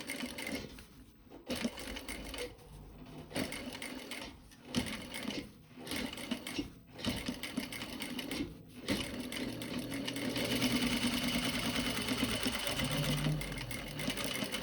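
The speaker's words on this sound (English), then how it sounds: "I'm going to use my foot to guide me along to do the second row of stitching" A sewing machine top-stitches denim jeans in short rapid bursts separated by pauses, then runs in one longer steady stretch near the end, close and fairly quiet.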